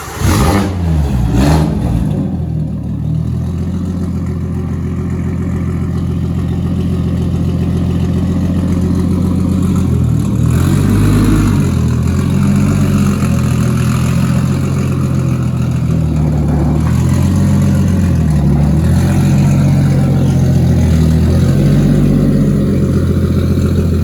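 An RB25DET engine in a Nissan S14 Silvia runs on a dyno, holding a loud, steady drone with several rises and falls in revs, continuous and close throughout.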